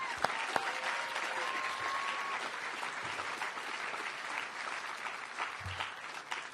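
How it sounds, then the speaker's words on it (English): A crowd claps steadily in sustained applause for award winners at an awards ceremony, a dense even patter throughout with a few sharper claps and faint murmuring. "Let's have just one last round of applause to all of our winners this afternoon."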